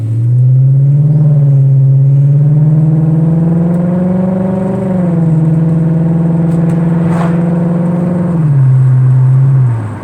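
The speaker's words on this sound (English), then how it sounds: "This car sounds cool in a parking garage." A car engine rumbles loudly at idle, revving up and settling in slow swells, its deep drone echoing in an enclosed concrete parking garage.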